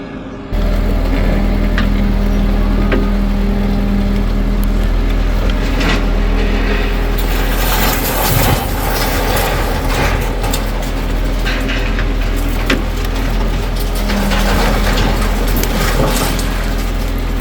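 Heavy excavator engine running steadily at a work site, a constant low rumble with clattering and knocking throughout, loud and continuous for the whole stretch.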